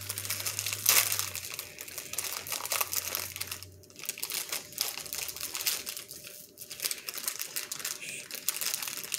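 A plastic wrapper on a Batman popsicle is torn open, producing close, loud crinkling and crackling bursts that come and go for several seconds with no talking.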